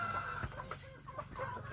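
A rooster clucks and gives short throaty calls close by, several bursts in quick succession with farmyard noise behind.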